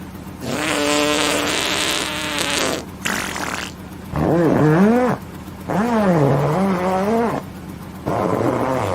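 A loud fart after a meal of beans and chili: several long buzzy bursts of gas in a row, each rising and falling in pitch, with brief pauses between them.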